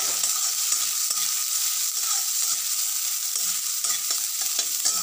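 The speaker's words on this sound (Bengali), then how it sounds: "আমরা এবার পেঁয়াজগুলোকে ভেজে নিচ্ছি।" Sliced onions fry in hot, smoking oil in a pan, giving a steady loud sizzle with faint stirring scrapes throughout, no voices over it.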